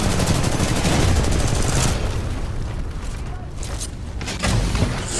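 In the video game Titanfall 2, a Titan drops from orbit with a dense roar of booming impacts and crackling gunfire-like bursts, loud and continuous throughout, swelling again near the end.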